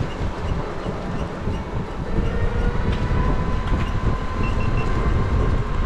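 An old train rumbles steadily nearby, a continuous low roar with faint rattling that grows slightly louder midway and holds.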